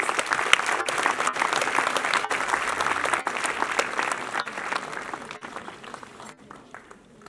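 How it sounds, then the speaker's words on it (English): An audience applauds as a guest is welcomed onto the stage at a public event, sustained, fairly loud clapping that stays even for several seconds and then thins out and tapers off near the end. "A big round of applause, please."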